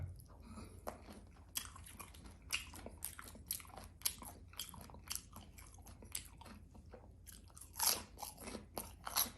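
Close, crisp chewing and crunching of a crunchy spicy Thai salad, with irregular bursts of bites and crackling crunches, loudest near the end, over a quiet background with no talk.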